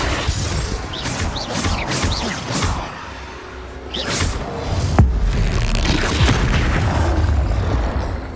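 A Confringo spell blast from Hogwarts Legacy erupts amid continuous explosive booms, whooshes and crashing game combat effects, loud and dense throughout with a sharp impact near the middle.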